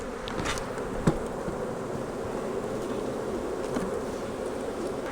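A swarm of honey bees drones steadily around an open hive being split during a beekeeping inspection, a continuous close buzz with a single sharp click partway through, likely a hive tool against wood.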